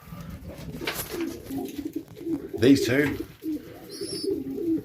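Racing pigeons coo in low, throaty bursts close by, while someone talks over them.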